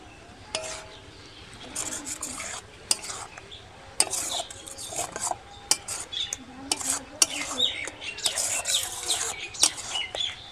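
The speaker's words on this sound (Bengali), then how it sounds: "এবার ভালো করে সব কিছু দিয়ে মাখিয়ে নেব।" A spoon scrapes and clinks in a bowl while sago dessert is mixed with raisins, tutti-frutti, dates and dried mango, making irregular close scraping and tapping strokes against the dish.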